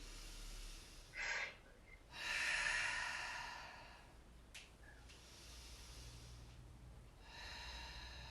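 A man takes a deep breath in during a Pilates improvers class, a soft breathy inhale swelling and fading, with a few quieter breaths before and after against a low hum.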